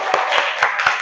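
A small group claps for the winners of a classroom competition, four quick loud bursts of hand claps close by in a short rhythmic pattern.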